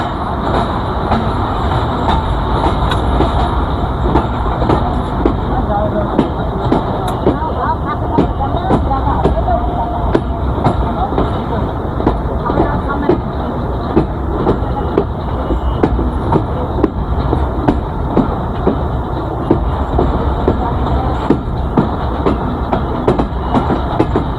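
A crowded train near Santahar, on the way from Joypurhat to Rajshahi in Bangladesh, rumbles loudly and steadily on the rails with constant clickety-clack and faint wheel squeal, and voices talk under the noise.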